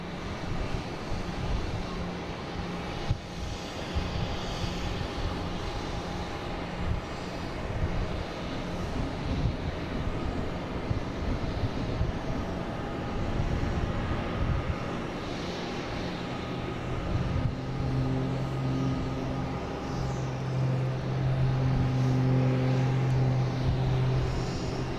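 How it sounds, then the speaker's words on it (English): An Embraer Phenom business jet taking off at Boston Logan International Airport, its engine roar a steady broadband rumble that swells toward the end, with wind noise mixed in. "next taking off is an Embraer Phenom"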